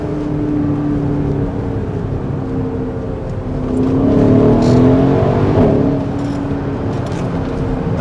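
A Mercedes ML 63 AMG in sport mode accelerating hard, its engine roaring and rising in pitch, with a gear shift partway through, loud and close, no talk.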